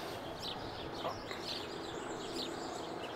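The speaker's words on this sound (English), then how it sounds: "Birds making noises that y'all can hear." Faint, scattered bird chirps sit in a steady outdoor background hiss, with a few brief calls rising above it.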